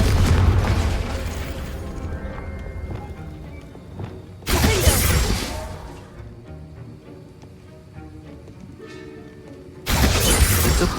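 Confringo explosion spells go off in Hogwarts Legacy, two loud bursts of blasting noise separated by quieter game ambience and music.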